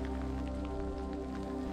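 Steady rain falls around the stone ruins of Gerga, an ancient Carian cult site, making a soft continuous patter with a low constant hum underneath and no talking.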